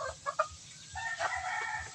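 A native hen clucks and crows in short, bright bursts close by on a farm, repeating several times over a steady low rumble.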